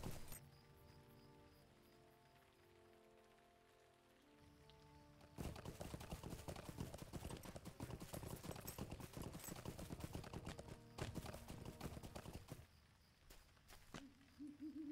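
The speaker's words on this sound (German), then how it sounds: "Wir reiten dort mal eben mit der Schnellreise hin." Horse hooves clip-clopping at a riding pace in Lord of the Rings Online, a steady loud rhythm of hoofbeats starting a few seconds in over quieter game music and ambience.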